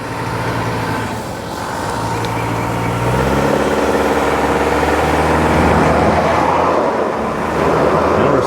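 A 2024 Toyota Tacoma grinds up a steep off-road hill, its engine droning loud and close as the wheels spin and the note rises and strains under load.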